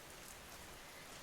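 Steady, dense rainfall with a soft, even hiss, faint and continuous throughout, with no other sounds standing out.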